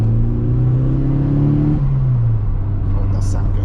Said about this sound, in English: it's worth it because I can hear the turbo.